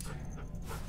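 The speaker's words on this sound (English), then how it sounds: "I'ma pet the dog." A dog in a video game pants steadily while being petted, a close, even breathy rasp lasting under a second with no talk.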